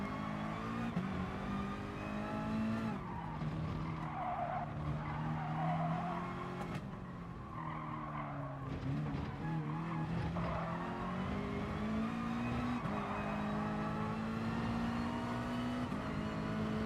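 Gr.2 race car tyres skidding and squealing at Catalunya in Gran Turismo Sport, with sustained tonal tyre squeal and engine note sweeping up and down continuously, loud and unbroken.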